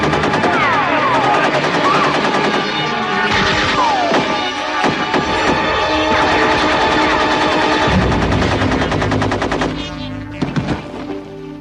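Loud, sustained machine-gun fire aimed at a character, with rapid continuous bursts, impacts and crashing hits mixed in, close and dense for most of the stretch before easing off near the end, with no speech.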